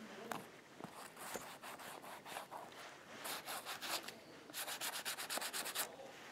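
Conditioner is worked into a Wilson A2000 leather baseball glove: close, repeated scrubbing strokes of cloth or hand on leather, quickening into a rapid rhythmic rubbing toward the end.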